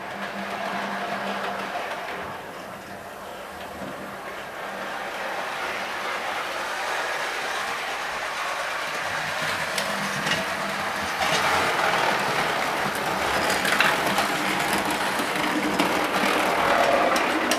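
A model train, Midland Pullman set with MK3 first class open and trailer buffet carriages, runs around a layout with tight curves, a steady rolling rumble and rattle of wheels on track continuing throughout at close range.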